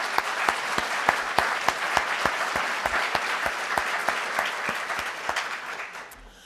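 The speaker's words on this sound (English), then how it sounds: "Let's have a round of applause for Tulsa Boys Home." Audience applause at a Rotary club meeting, a steady wash of many clapping hands with a few sharp individual claps standing out, loud at first and tapering off toward the end.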